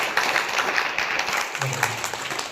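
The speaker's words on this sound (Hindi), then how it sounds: "ताली बजाओ जोरदार।" Guests at a Buddhist wedding ceremony in Jaunpur clap loudly and continuously, dense applause close by, with a brief voice underneath.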